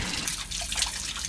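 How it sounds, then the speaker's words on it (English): Water leaks from the engine bay of a Ford Transit van, a close, continuous splashing and dripping of liquid falling onto the ground below. "That's a lot of water coming down from the engine bay."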